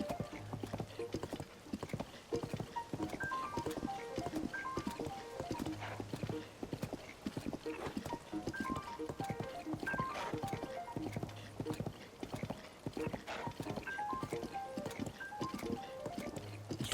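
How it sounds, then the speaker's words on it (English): Video game horse hooves clip-clopping in steady repeated bursts in Zelda: Tears of the Kingdom, with an occasional whinny, set against game music and no talking. "Look at my horse. My horse is amazing."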